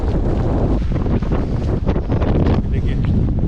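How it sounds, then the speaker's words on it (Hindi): Strong, cold wind buffets the microphone in a continuous loud roar, broken by gusty rumbles and flutter, out in the open in Iceland's Westfjords. "देखिए देखिए, इतनी तेज़ हवा है"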